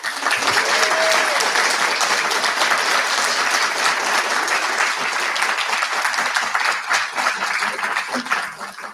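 A crowd applauds author Renee Watson at an evening book event, loud continuous clapping filling the room without letting up, easing a little toward the close.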